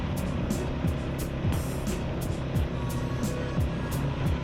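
A Yamaha Vixion 165cc bore-up motorcycle engine climbing an uphill road, a steady droning engine note with wind rush and periodic pulsing, continuous and close.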